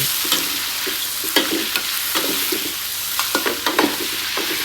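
Squid tentacles frying in hot oil in a wok, a steady loud sizzle with scattered scraping stirs and clicks throughout, no voices.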